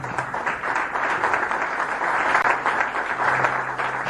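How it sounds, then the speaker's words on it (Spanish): A church congregation breaks into loud, sustained applause during a sermon, dense clapping from many hands filling the room steadily for several seconds. "Dale un fuerte aplauso si lo cree, vamos."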